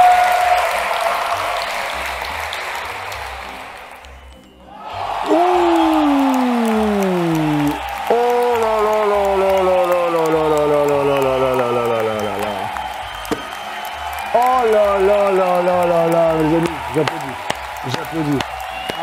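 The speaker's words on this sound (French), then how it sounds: "J'applaudis." An audience applauds a magician at a 2022 world magic championship. Steady clapping runs through most of the clip beneath loud, sweeping descending electronic tones, with a short lull near the start and voices talking over it.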